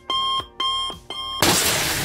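An alarm clock rings in an old Tampa cigar factory, three short electronic ringing bursts in quick succession, followed by a sudden loud wash of broadband noise.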